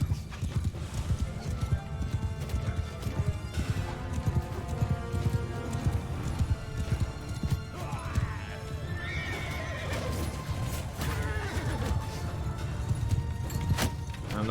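Horses in a Bannerlord video game battle, with continuous clip-clop hoofbeats and repeated neighs and whinnies over a steady low rumble of combat, fairly close and busy throughout.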